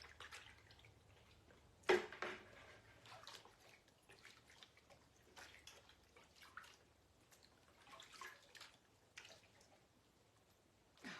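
A freshly marbled item is rinsed in a bucket of water, making soft, scattered splashes and drips. One brief louder slosh stands out, and the whole sound is faint and close.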